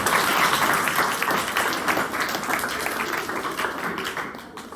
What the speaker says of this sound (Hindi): एक बार इनके लिए जोरदार तालियां।